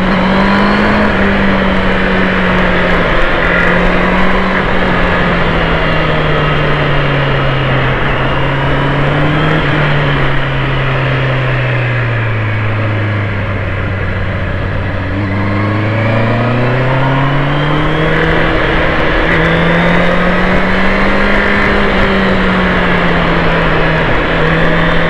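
A Honda CB650R E-Clutch motorcycle engine drones steadily, its pitch dipping on the shift into third gear and then climbing again as it pulls harder, continuous and close with no talking.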